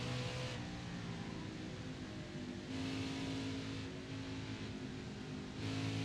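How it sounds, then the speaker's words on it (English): Engine of a NASCAR Xfinity Series race car in the NASCAR Heat 5 video game, revving up and shifting quickly through the gears in repeated rising sweeps, steady and loud with no voice over it. "So we shuffle through the gears real quick. Get the car back up to speed."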